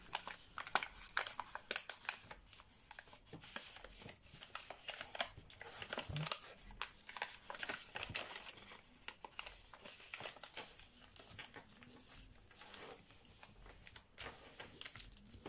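Origami paper being folded into petal folds for a deep sea angler fish model, close crinkling and crisp creasing rustles in irregular bursts, with occasional sharper snaps of the sheet.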